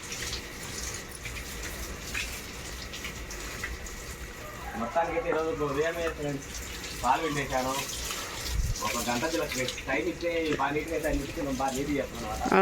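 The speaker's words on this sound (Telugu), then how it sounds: "శుభ్రంగా కడిగేస్తున్నాడు మోటార్ పెట్టేసి" Water gushes steadily from a motor pump hose washing the ground, a constant splashing rush while people talk over it nearby.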